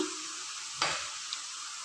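Rice flour ribbon pakodi deep frying in oil over a medium-low flame, a steady soft hiss with a sharp burst of bubbling midway and a small clink after.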